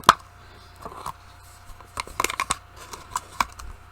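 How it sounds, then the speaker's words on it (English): Close scissors snip through plastic in a series of sharp, irregular cuts with crisp crackles between them. "take your scissors and just cut a little"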